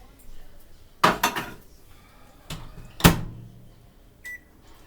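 Kitchen clatter near a microwave oven being used to reheat a slice of pizza on a plate: a few sharp bursts of plate and door handling with short clanks, then quieter hum and a brief beep-like tone.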